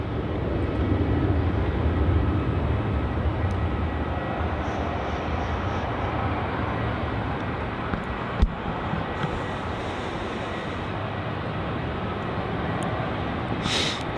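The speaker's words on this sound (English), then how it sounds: "This is Regional Express flight 437 heading off to Adelaide." Regional Express flight 437 departing Melbourne Airport for Adelaide: a broad, steady jet roar holds loud and even throughout, with a sharp click partway through and no talking.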